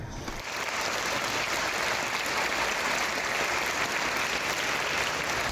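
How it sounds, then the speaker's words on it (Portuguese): Steady, continuous crowd applause at a public gathering in Brazil defending the democratic rule of law, a broad wash of clapping that holds evenly for several seconds. "E as palmas não cessaram por aí."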